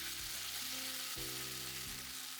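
Ketchup and soy sauce heating in a pan beside rice for omurice, a dense, even sizzle that holds steady and close throughout, with a faint low hum underneath.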